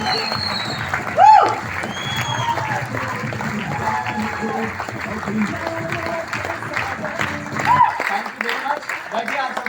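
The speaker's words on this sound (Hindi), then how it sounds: "जोरदार तालियों के साथ स्वागत करिए" Applause from an audience at an event in Vishnudas Bhave Hall, Vashi, welcoming a leader onto the stage, a steady dense wash of clapping with crowd noise and voices over it that cuts off near the end.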